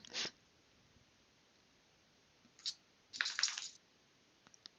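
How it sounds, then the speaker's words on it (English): A dog shakes its head in a few short, rattling bursts, heard near a microphone in a quiet indoor room, the last burst longer and louder, with no talking over it. "Oh, I just heard a dog or something shake its head."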